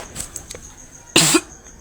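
A woman who is unwell gives a single harsh, loud cough outdoors during a village Ras Purnima festival, following a few faint background noises.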